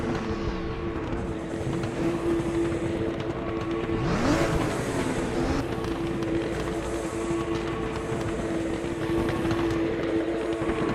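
Race cars in a Widowmaker Series round roar off the start together, a loud sustained engine drone with a pitch that sweeps up as one car accelerates past, then holds steady.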